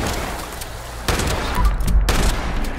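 Shotgun blasts from the video game Fallout 76, a couple of loud booming shots over dense in-game combat noise, close and heavy.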